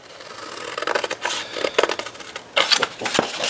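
Scissors snip away small boxes from scored paper card in a run of close, crisp cuts and rustles, with a louder burst of snipping near the end.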